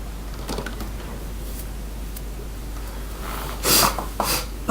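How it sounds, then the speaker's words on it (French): A person sniffs repeatedly during a Skyrim play session: a few short, close nasal sniffs near the end, over a low steady hum and faint background noise, with no speech. "Pardon, de renifler tout le temps."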